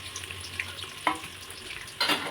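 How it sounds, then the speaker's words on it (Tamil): Onions dropped into hot oil with spluttering mustard seeds for a tomato thokku, giving a steady low sizzle with a few sharp crackles and a louder burst of frying near the end. "கடுகு பொரிட்டுன்னு வெங்காயம் போட்டுக்கோங்க"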